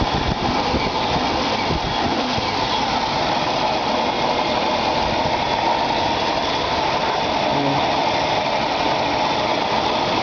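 A 1986 AMC Eagle wagon engine with a Motorcraft 2150 carburetor running steadily, a continuous even mechanical hum and rattle with no speech.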